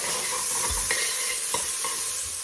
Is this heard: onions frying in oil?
yes